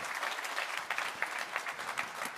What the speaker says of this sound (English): Round of applause to Varis Teivāns.